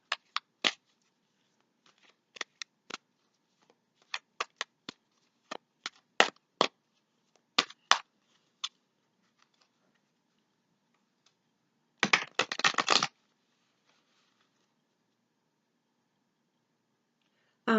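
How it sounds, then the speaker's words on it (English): Crisp tarot-card-handling clicks and snaps, scattered and irregular, then a quick dense riffle of shuffling tarot cards; quiet in between. "So I'm gonna start shuffling the cards"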